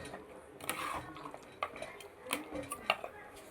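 A spoon stirs ground ginger, garlic and tomato paste in a pan while mutton paya gravy is being made. Metal scrapes and clinks come in irregular bursts, quiet and close, with sizzling faint beneath.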